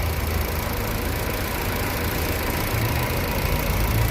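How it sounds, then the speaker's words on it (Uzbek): Steady idle of a car engine converted to propane, running unevenly with a rough, uneven knocking rhythm, close and constant throughout with no voices. "Mana motor qimirlab ishlayapti, mana stuk bilan ishlayapti."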